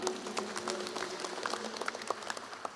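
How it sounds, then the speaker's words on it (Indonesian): Audience applause at a small business training and outreach session, a steady patter of clapping hands throughout with brief sharper claps, moderately near and not very loud. "Tepuk tangan buat Bapak Ibu."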